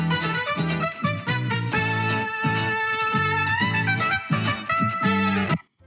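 A bright future funk music loop at 115 BPM with chopped chords and a bouncing bassline, played loud and steady, cutting off abruptly at the end.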